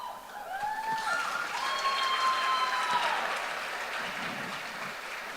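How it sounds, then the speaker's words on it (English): Crowd applause fills a high school gym on senior night at a Corry versus Titusville boys basketball game, steady clapping with high whistles and sneaker squeaks over it for several seconds. "one more round of applause for all the seniors in tonight's attendance"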